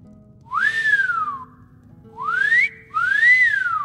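A character in the video game Skyrim whistling for a horse: three clear rising-and-falling whistled notes, loud and close, with short gaps between them.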